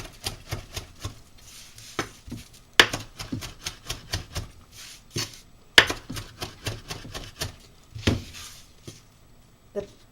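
A knife chops fresh ingredients on a cutting board for Sicilian tomato sauce, making crisp, uneven bursts of close taps with a few sharper knocks, while someone talks quietly at times.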